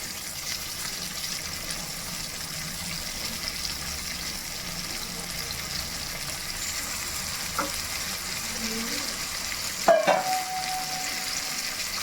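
Steady loud sizzling and frying of washed chicken pieces dropped into browned onions in a pan, with faint stirring scrapes and a couple of brief clinks near the end.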